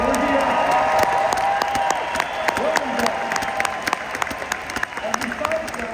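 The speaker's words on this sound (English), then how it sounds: "this man needs a round of applause wherever he's at" A large crowd at a corporate company event breaks into sustained applause with scattered whoops and cheers, loud and full, while a voice speaks faintly underneath.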